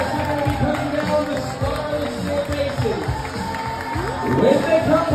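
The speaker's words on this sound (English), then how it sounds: "please make a huge round of applause" A crowd fills a cruise ship piazza during a farewell parade aboard the Ruby Princess with continuous applause, cheering and general din, while a host speaks over the noise.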